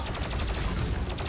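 Rapid gunfire from the Doom Eternal video game bursts in a dense, loud volley of closely spaced shots over a little more than a second.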